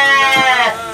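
A single sheep bleats close by in a farmyard, one wavering, nasal cry lasting about a second, loud and alone with no talk over it.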